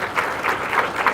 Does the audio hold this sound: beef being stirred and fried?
no